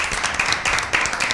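Applause for a correct answer during an Easter special Bible quiz show, a steady mass of clapping from a studio audience with a few sharper individual claps.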